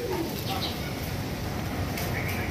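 Premium fancy pigeons coo softly amid a busy, noisy background, with faint bird calls here and there.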